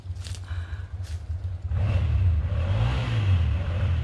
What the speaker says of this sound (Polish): Tam akurat słychać motor. Jakaś para właśnie wyjeżdża na motorze.